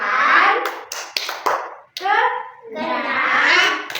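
In a classroom, children chant a rhythmic clapping song together, with several sharp hand claps cutting between their sung phrases, close and clear.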